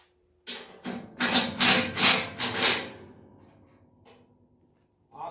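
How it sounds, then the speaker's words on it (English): A power gun runs down 13 millimeter bolts on a Bestco FH-DW30 wood chipper: a close series of loud rattling bursts in quick succession, then a fading tail and a brief final buzz. "So I'm going to gun these down really quick"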